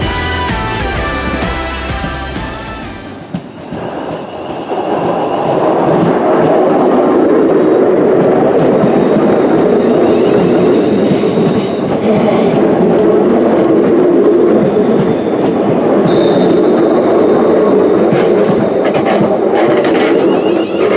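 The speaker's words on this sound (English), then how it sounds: "I'm going to board the train now and leave Hensford to head to Walsall" A passenger train rumbles past close by on the line, a loud continuous roar of wheels and engine filling the whole stretch after a brief quieter lead-in with a warning-tone pattern.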